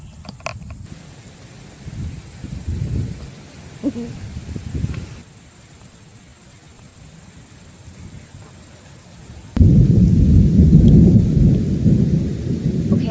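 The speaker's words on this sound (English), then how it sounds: "Yeah, it's raining." Steady rain hisses throughout, and a loud rumble of thunder swells in near the end, with faint insect chirps underneath.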